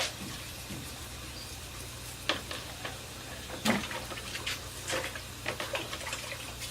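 Running water rinsing bananas during washing for banana flour processing, a soft steady wash with scattered splashes and a few sharper spatters, moderately near.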